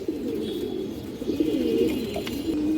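Pigeons cooing close by, a continuous low throaty rolling coo with brief swells, steady and unaccompanied by voices.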